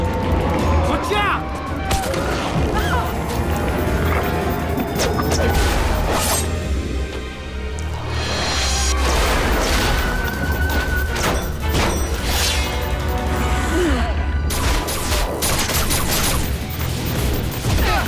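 Cartoon gunfire from an animated action series, with dense, continuous bursts of shots, crashes and booms filling the whole stretch, loud and busy, with voices shouting over the barrage.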